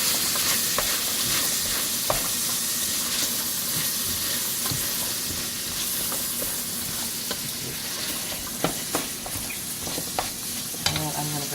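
Minestrone vegetables sauté in a pot with a steady sizzle and repeated spoon scrapes and clinks, and a brief watery splash near the end.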